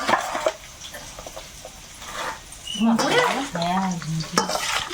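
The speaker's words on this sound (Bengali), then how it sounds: "দেখো আলুটা একদম লাল লাল ভাজা" Soft sizzling and stirring in a pan, with a voice talking briefly partway through over the gentle frying hiss.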